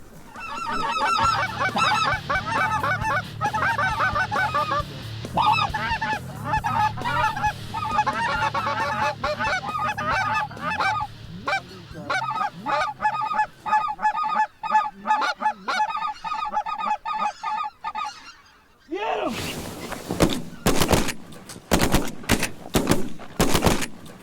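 A flock of white-fronted geese honks and calls loudly and continuously during a goose hunt, their overlapping cackles filling the air, followed near the end by a rapid volley of sharp gunshots.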